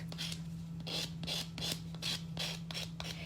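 Sanding block rubbed across the sharp edges of a cut metal jewelry blank, a steady back-and-forth rasping of about a dozen quick close strokes over a constant low hum.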